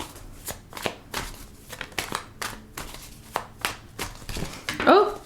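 Tarot cards shuffled in quick riffling bursts at a steady rhythm, close and fairly loud, with brief pauses between passes and a short voice sound near the end.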